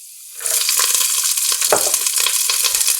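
Green chilies and curry leaves hitting hot oil in a pan, a sudden loud sizzle that starts after a brief quiet moment and keeps crackling steadily up close, with a few clinks of stirring.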